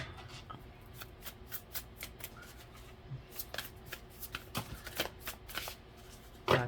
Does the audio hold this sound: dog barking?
no